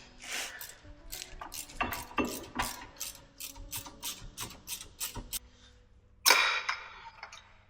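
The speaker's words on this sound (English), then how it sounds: "More access to the ratchet." A ratchet wrench clicks in quick bursts of repeated ticks while working on car brake calipers during a rushed service and brake pad job, close and fairly loud, with a sharper metallic clatter near the end.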